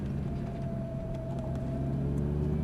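A Lamborghini holds steady throttle on a race circuit, its engine a loud, close, continuous drone with a rising tone, heard from inside the car.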